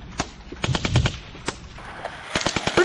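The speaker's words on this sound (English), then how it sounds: "It's made out of gunshots. Gunshots on a beat." Rapid bursts of gunfire crack out in rhythmic clusters, shots landing in a beat-like pattern, loud and close, with no voices.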